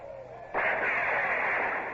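Gunfire in a historical naval radio drama arrives as a sudden burst and then a sustained crackling, rumbling volley of musketry. It holds at moderate level for over a second, with no talking over it.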